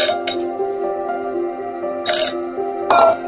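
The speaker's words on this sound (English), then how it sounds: "After that, I will add ice cubes," Ice cubes drop into a glass chilled in the freezer. Bright clinks and cracks come in a few separate bursts over steady background noise, with no talk.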